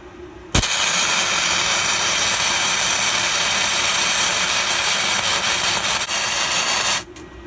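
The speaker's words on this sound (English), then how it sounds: "That's got a very smooth arc indeed. That was really good. So there you go. That looks like a really good bead." A budget IGBT inverter MIG welder runs a bead on steel about 3.5 mm thick, a loud, steady sizzling hiss that starts abruptly and holds unbroken for about six seconds before cutting off.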